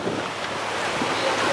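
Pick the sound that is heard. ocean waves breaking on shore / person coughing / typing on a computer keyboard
ocean waves breaking on shore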